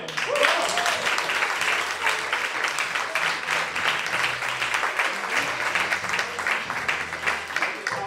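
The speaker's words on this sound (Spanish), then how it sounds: "Por favor, un fuerte aplauso" Audience applause at a live poetry slam event, steady sustained clapping from a crowd that fills the whole stretch at an even, moderately loud level.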